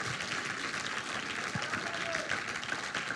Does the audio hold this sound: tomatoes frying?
no